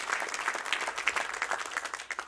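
A legislative audience applauds lawmakers at a Connecticut Republican budget presentation, with dense, steady clapping continuing at moderate volume throughout.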